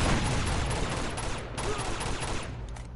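Dense, continuous automatic gunfire rattles in Uncharted 2 as a loud, close fusillade of overlapping bursts filling three seconds, easing slightly near the end.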